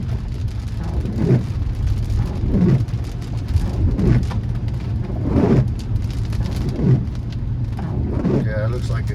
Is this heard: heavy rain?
yes